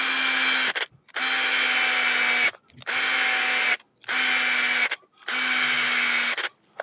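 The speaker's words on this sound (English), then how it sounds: "I know some of you guys love power tools like this" A cordless power drill drives screws into a plastic housing on a Traxxas 2WD RC car transmission, whirring in five close, loud bursts separated by short pauses.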